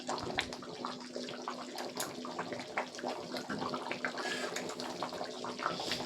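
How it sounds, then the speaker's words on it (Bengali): A pot of spicy village-style desi chicken curry bubbles steadily on the boil, a dense continuous simmering and spluttering with no voices. "এবার আরও ভালো করে একটু ফুটিয়ে নেব।"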